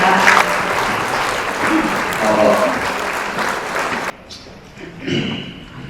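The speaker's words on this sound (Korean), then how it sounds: "강사님은 큰 박수로 맞이해 주시기 바랍니다" A seated audience at a pest-control safety lecture gives loud, sustained applause to welcome the lecturer. The clapping cuts off abruptly near the end, leaving quieter room sound and a brief voice.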